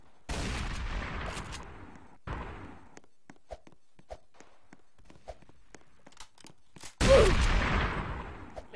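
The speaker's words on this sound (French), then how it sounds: "qui me tire dessus?" Gunshots in Roblox Prison Life: a few sharp, loud blasts with trailing decay, separated by quiet stretches dotted with faint clicks and taps, then another heavy burst near the end.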